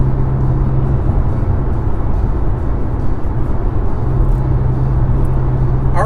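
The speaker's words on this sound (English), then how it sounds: "So the car runs, it's stronger, it sounds good, the engine is cleaner" An IS20-turbo Mk7 Golf engine droning steadily while driving, loud and continuous cabin rumble with a faint whine, no talking.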